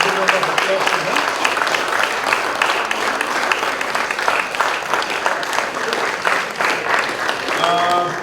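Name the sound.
seminar audience applause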